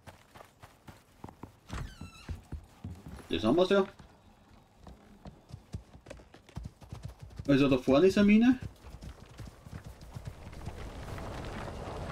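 Horse hooves clip-clop in two short bursts as a rider travels on horseback through the Olympus open-world game, with someone talking over and between the steps.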